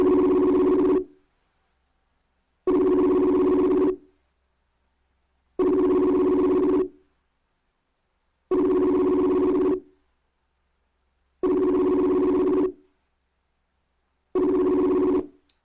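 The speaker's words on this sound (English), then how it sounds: "Please bear with us while we try and dial up tonight's guest." A telephone ringback tone while calling a guest on a show: six evenly spaced steady electronic tones, each about a second long with roughly two-second silences between, clear and close with no talk.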